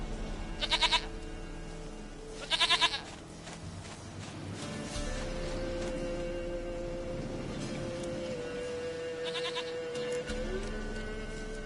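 A goat in the Witcher 3 video game gives three separate bleats, short quavering cries at the start, near three seconds and near ten seconds, over a low ambient game background.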